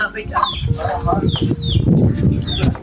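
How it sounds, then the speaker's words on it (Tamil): Chickens clucking along a rural trail in Sri Lanka, short clucks and calls scattered over a few seconds, mixed in with people talking nearby. "கோழி பாருங்க."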